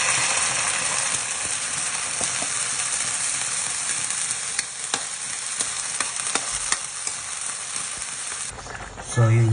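Sardines sizzling in a pan with onion and garlic, a steady hiss with scattered clinks and scrapes of stirring, close by and continuous.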